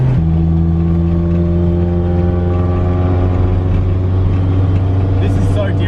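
A Toyota AE86 drift car with a BEAMS 3SGE engine drifting, a loud sustained engine drone holding steady tones that climb gradually as the revs build, close and dominating throughout.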